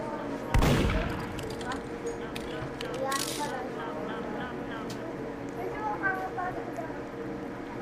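Gunfire in a video game: one sharp, loud burst near the start, then scattered fainter shots and clattering game effects, while a person talks throughout.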